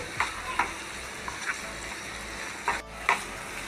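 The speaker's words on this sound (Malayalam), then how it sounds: "ഒന്നുകൂടി നന്നായിട്ട് മിക്സ് ആക്കണ്ടാവും" Onion curry is stirred in a pan over a soft, continuous sizzle, with several distinct spatula scrapes at irregular intervals, close and moderately quiet.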